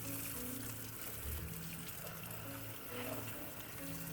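Tap water runs steadily over mung bean sprouts in a large homemade sprouting tray, a constant soft rush with faint tonal ringing throughout.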